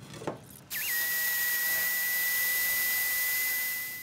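A bandsaw cuts the wooden verticals of a puzzle box. A brief knock comes first, then the saw starts up loud and close with a steady, high whining hum that holds without a break to the end.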